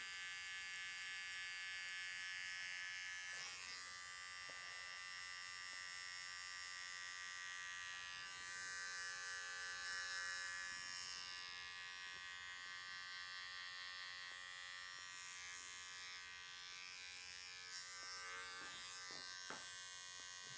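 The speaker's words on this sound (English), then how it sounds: "Back to my trimmer." An electric hair trimmer buzzes steadily during a barber's haircut, a faint continuous high whine lasting throughout with slight variations as it moves over the hair.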